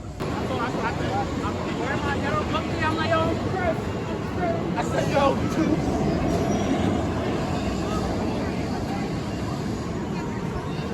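Nitro, a 2001 B&M Hyper roller coaster at Six Flags Great Adventure, on a ride: a loud, continuous roar of wheels on track with rattling and clacking fills the whole stretch, steady and close throughout.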